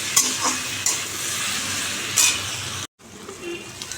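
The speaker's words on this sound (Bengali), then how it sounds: "ভাজা বসিয়ে দিয়েছি কাঁচা লঙ্কা আর কালো জিরে দিয়েছি" Frying with green chilli and black cumin in a wok gives a loud, steady close sizzle, with a couple of spatula scrapes and clinks against the pan, a brief cut to near silence, then quieter sizzling resumes.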